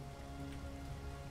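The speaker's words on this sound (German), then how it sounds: "Es regnet schon wieder." Rain falling in the video game Space Engineers, a dense, even wash of patter over a low steady hum, brief and fairly quiet, with no voices.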